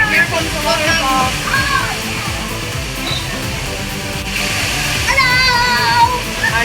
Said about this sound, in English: And here comes the waterfall.